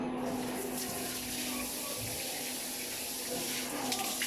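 Shower water runs in a steady, close hiss while natural hair is rinsed clean of an oatmeal and corn flour conditioner.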